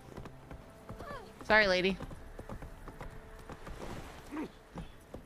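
Horse hooves clip-clop at a steady walking rhythm in The Witcher 3 Wild Hunt, close and clear, with a short loud line of spoken dialogue cutting across the middle and a few other game sounds around it.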